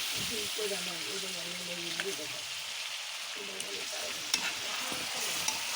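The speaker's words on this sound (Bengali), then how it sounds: "মাছটা কষাবো" Fish being stir-fried in a pan gives a steady sizzle with occasional spatula clicks, while a voice talks quietly over it during the first few seconds.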